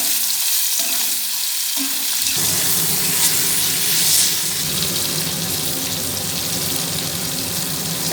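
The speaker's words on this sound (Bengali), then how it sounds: "মাশরুমগুলোকে হালকা করে ভেজে নেব, খুব বেশি ভাজবো না" Chopped mushrooms fry in mustard oil in a wok, a steady loud sizzle that swells after a quieter start and keeps crackling evenly throughout, with stirring mixed in and no voices.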